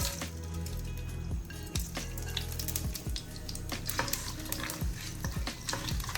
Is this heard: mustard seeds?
yes